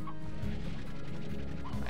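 Chickens in the farming game Slime Rancher cluck and gobble in a busy, continuous run of throaty calls, fairly close and loud, mixed with light knocking and clattering sounds.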